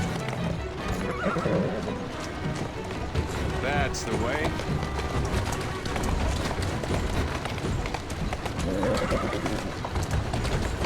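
Horse hooves clip-clop steadily in Assassin's Creed Syndicate gameplay while the horse whinnies a couple of times, with someone talking over the galloping.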